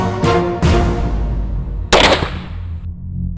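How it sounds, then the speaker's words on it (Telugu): Gunfire echoing near Bonalapalle village in Karimnagar district, from a firing range in the surrounding hills: three loud, sharp blasts spaced about a second apart, each with a decaying rumble. "నిత్యం ఈ గ్రామంలో తూటాలు పేలిపోతున్నాయి."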